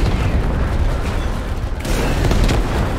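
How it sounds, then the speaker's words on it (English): Rocket launcher explosions in the Starship Troopers: Extermination video game, a dense continuous barrage of booms and blasts with loud, overlapping bursts throughout and a sharper impact near the middle. "My rocket launchers are glitching through the artillery, bugs."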